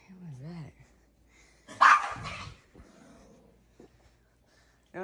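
A dog gives a single loud bark indoors near the laundry room, a short sharp burst midway through the clip, with people talking around it.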